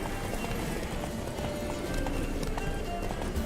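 Roach, Geralt's horse in The Witcher 3, gallops at full pace with steady, dense clip-clop hoofbeats close up, accompanied by a constant rush of game ambience.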